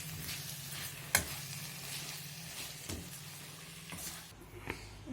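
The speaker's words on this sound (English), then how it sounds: "Mix it well." Vegetable fried rice with chili and soy sauces sizzles and fries in a pan while a utensil stirs it, with a few sharp scrapes and clinks over a steady close hiss; no talking.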